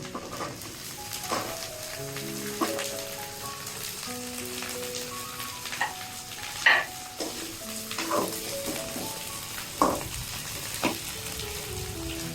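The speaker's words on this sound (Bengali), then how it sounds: "সামান্য ভাজা হয়ে গেছে, আমি এখন কুমড়াগুলো দিয়ে দিচ্ছি।" Pumpkin greens fry in mustard oil, giving a steady, close crackling sizzle with repeated scraping stir strokes and brief clatters throughout, and no talk over it.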